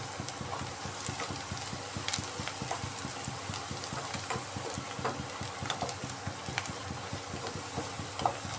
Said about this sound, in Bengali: বেরেস্তাগুলো প্রায় হয়ে এসছে, লাল লাল হয়ে যাচ্ছে পেঁয়াজ।